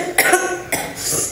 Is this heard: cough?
yes